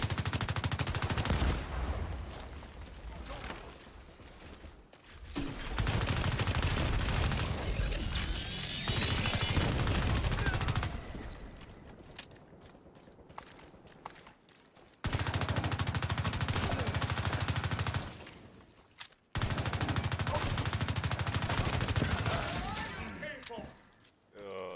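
Gunfire in the video game SCUM, loud bursts of automatic fire in long sustained stretches separated by short pauses, with a voice talking in the gaps.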